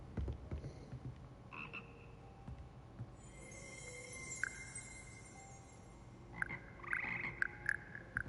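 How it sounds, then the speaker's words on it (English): Frog croaks ring out in the fantasy game Hogwarts Legacy, a few short calls standing out over a soft ambient game backdrop with scattered chimes and shimmering effects. "Why do I hear a frog?"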